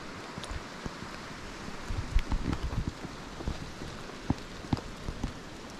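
Rain falls outdoors at night near a roadside crosswalk, a soft steady patter with scattered sharper drips and taps landing close by, quiet and uneven, with no voices.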